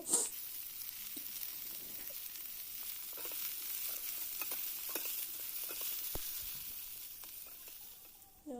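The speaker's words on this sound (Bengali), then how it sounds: "এবার দিয়ে দিলাম সজনের ডাটা সজনের ডাঁটাও তাও আলুর সাথে ভেজে নেব" Drumstick stems and potatoes fry together in a pan, a faint, even sizzle carrying on steadily with light scattered clicks and a stir at the very end.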